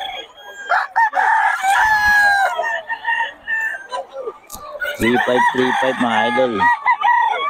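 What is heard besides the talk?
roosters (stags) crowing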